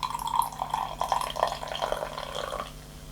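Red Bull energy drink poured into a glass, a close liquid stream gurgling and splashing for a few seconds before tapering off.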